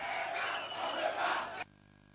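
A large crowd marching along a city avenue toward a rally, heard as a dense, steady roar of many voices and footsteps that continues evenly for about a second and a half and then cuts off abruptly into near silence.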